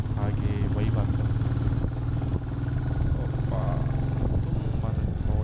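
A motorcycle rides along a narrow, empty forest road in the monsoon-season Nilgiri hills. Its engine drones steadily throughout with rushing wind, and voices talk over it at times.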